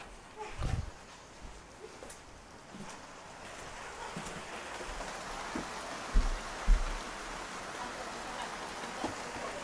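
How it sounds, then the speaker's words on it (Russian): Heavy, steady rain pours down outside during a cycling trip in Lithuania, a dense broadband wash with a few louder thumps of drops, close and continuous, with no talking. "Дождь, по-моему, только усилился. Короче, до сих пор льет."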